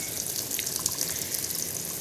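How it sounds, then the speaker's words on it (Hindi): Water runs steadily into a washing machine, a continuous hissing splash of tap-fed flow, moderately loud and close with no voices. "अब चला दिया मैंने मशीन में ही पानी।"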